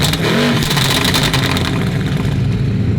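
A Ferrari F12 supercar engine roars loud and close, revving hard with a pulsing rasp before settling into a steady heavy drone.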